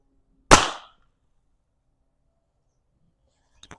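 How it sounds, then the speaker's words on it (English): A Beeman BP.50 pistol firing a chemical round, one sharp, loud crack with a quick decaying tail, followed by faint clicks after a long silence. "I've just shot 3 chemical rounds"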